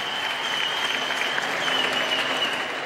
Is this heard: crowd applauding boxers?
yes